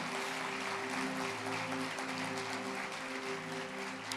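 A church congregation applauds through a midweek worship service, a steady dense wash of clapping under sustained tonal music or held organ-like notes, with no clear gaps.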